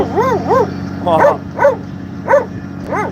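A dog lets out about five close, loud, rising-and-falling yowling whines in a rhythmic series, as if answering someone.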